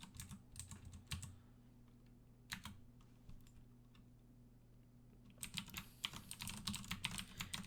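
Keys clatter on a computer keyboard in irregular bursts of close, fairly quiet taps separated by short pauses, building into a quicker flurry near the end.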